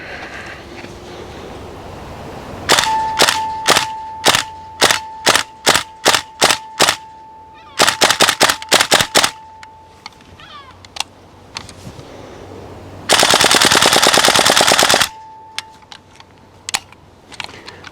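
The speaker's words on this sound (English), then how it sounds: "GHK version 3. Gas blowback rifle." A GHK version 3 gas blowback airsoft rifle fires in loud, sharp bursts: a rapid string of cracks, a pause, a second tight burst, scattered single shots and then a long full-auto rattle before stray clicks.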